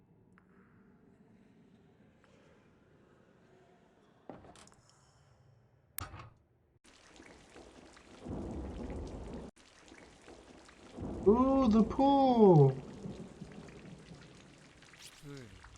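Steady rain and low rolling thunder in the horror video game Corpse Party, with a rumble building near the middle and a voice briefly speaking over the downpour.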